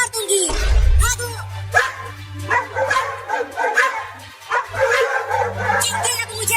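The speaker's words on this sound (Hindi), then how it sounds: "वो देखो, वो कुत्ता फिर से आ रहा है, और देखो वो एक और कुत्ता को भी लेकर आ रहा है" Two cartoon dogs bark loudly and repeatedly in close, uneven bursts with a few yips, over a steady low hum, while people talk over them.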